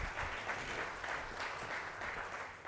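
Audience applause at an open-mic poetry event, a continuous loud wash of many hands clapping at once, dense and steady throughout with no voices on top.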